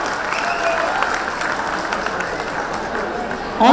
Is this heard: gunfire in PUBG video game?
no